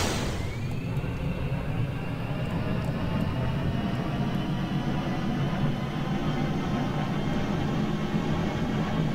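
A jet engine spins up in a space flight game, a sharp rising whine at the start settling into a loud, steady roar with a deep rumble that holds for the whole stretch, no voices.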